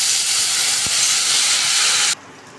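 Water splashed into a hot pan with onion and green chilli, a loud, dense steaming hiss that holds steadily for about two seconds, then abruptly cuts to a quieter background.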